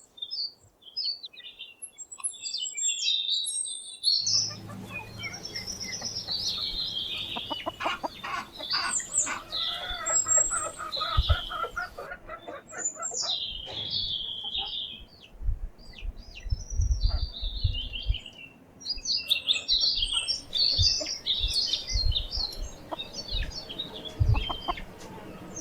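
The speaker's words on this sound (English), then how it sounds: "And not just any chicks, pheasant chicks." A hen clucks repeatedly while a brood of pheasant chicks peep and chirp in high, busy bursts nearby, the calls coming in uneven clusters with occasional soft rustling.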